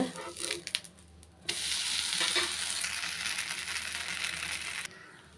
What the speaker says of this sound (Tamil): அது மேலே லைட்டாக எண்ணெய் விட்டுக்கலாம் ஒரு சைடு வந்து நல்லா வெந்துடுச்சுங்க